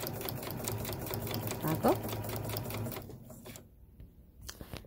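A Kenmore Ergo 3 sewing machine runs steadily at close range with a rapid mechanical whir and stitching rattle for about three seconds, then stops; a brief voice speaks over it near the middle.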